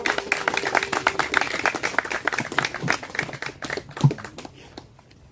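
Scattered applause from an outdoor memorial ceremony crowd, uneven claps of moderate loudness that taper off, with brief murmurs of voices mixed in.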